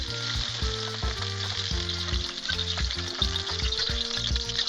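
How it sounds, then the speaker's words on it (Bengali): Moringa drumstick pieces fry lightly in hot oil, giving a steady, loud sizzle with stirring clatter over a constant bright hiss, no voices present. "সজনের ডাঁটাটা একটু হালকা ভাজা করে আমরা তুলে নিচ্ছি।"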